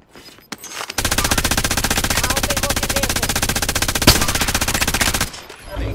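Loud automatic gunfire from a shooter video game: a sustained, rapid stream of shots rattles on for about four seconds, then cuts off abruptly.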